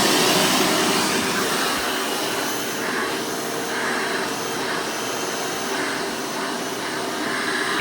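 Hoover Elite 600 upright vacuum cleaner, factory rebuilt, running steadily with its onboard hose in use, giving a constant loud broadband whir with a slight wavering in pitch and no talking.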